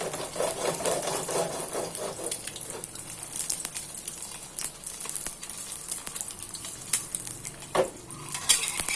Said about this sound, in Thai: ทอดไปสักพักเราปิดแก๊สใช่ไหมน้ำมันจะเริ่มหายเดือด